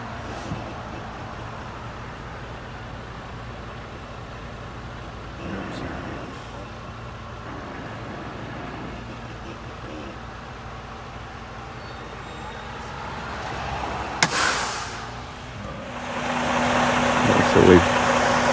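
A truck engine idles steadily with a low rumble while the vehicle pulls up near a roadside in a canyon, with a brief sharp hiss and louder revving toward the end.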